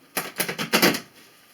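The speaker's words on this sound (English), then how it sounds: "let me just shuffle these one more time" A deck of cards is shuffled by hand, making about five quick, papery riffling bursts close to the mic, each lasting a fraction of a second, before it fades to quiet.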